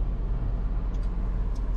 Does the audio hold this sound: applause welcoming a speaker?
no